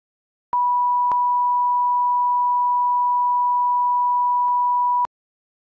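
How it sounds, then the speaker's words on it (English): A 980 hertz test tone from a sound generator plays as a pure, steady, loud beep for about four and a half seconds, starting and stopping abruptly with faint clicks and silence on either side. "Now I'm going to play you a tone with 980 hertz"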